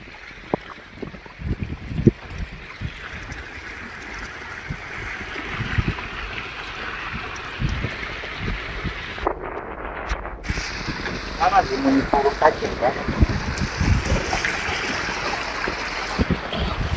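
Rainwater flows and rushes steadily outdoors after heavy rain in Nashik, a continuous watery roar mixed with buffeting wind noise, and a voice is heard briefly over it.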